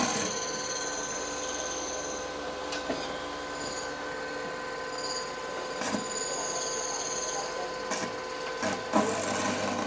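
An arc welding machine melts a welding rod, giving a steady crackling, sizzling buzz over a constant electrical hum, with a few sharper pops along the way and no talking.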